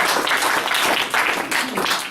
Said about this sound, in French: Acclamation pour les prophètes.